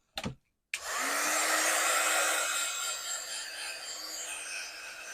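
A heat tool blasts air steadily at a paper craft background for about four seconds after a brief opening burst, a loud, even whoosh with no talking.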